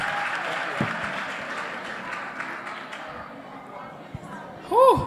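Audience applause at an EYW Free State event fills the space, with a steady wash of clapping and crowd chatter. A voice and a brief squeal come near the end.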